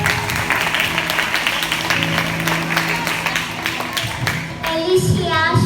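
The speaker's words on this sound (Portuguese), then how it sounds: "Então dê palmas para Jesus." Church congregation applauding in praise, a dense, steady wash of clapping from a crowd filling the whole stretch, with some vocal sounds mixed in near the end.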